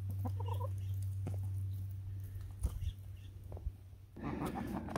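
Backyard chickens on an Arizona homestead cluck in short, scattered bursts as they eat Grub Terra grub treats, over a steady low hum with a few brief knocks.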